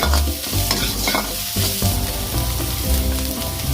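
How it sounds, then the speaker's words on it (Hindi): Chopped vegetables and capsicum sautéing in a pan for vegetable fried rice, a loud steady sizzle with stirring and scraping throughout, close up and without voices. "हमें इसको थोड़ी देर के लिए ऐसे सौटे करते रहना है"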